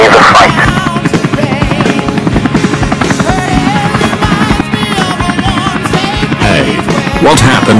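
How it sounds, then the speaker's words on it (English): Helicopter in an animated movie flying, a loud, continuous, pulsing rotor chop with whirring buzz and no pauses, close and dominant throughout. "I see a helicopter. Let's get on it."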